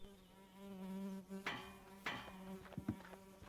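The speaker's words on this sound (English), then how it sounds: "That buzzing noise is in the game, isn't it?" Flies buzzing in the video game Rosewater, a steady droning insect hum with a few sharp clicks and thuds breaking in, moderately close and alone.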